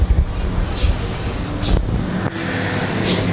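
Strong surf at Boracay beach rolls and crashes in a steady loud roar, with gusty wind buffeting the microphone throughout.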